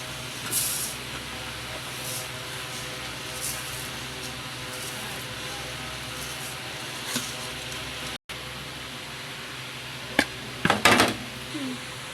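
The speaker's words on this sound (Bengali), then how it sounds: "এবার আমি চালগুলো দিয়ে দেব।" Rice tipped into a pan of half-cooked potatoes frying on medium heat for vegetarian fried rice: a continuous low sizzle and hiss, then louder clattering and a scraping burst near the end, no one speaking.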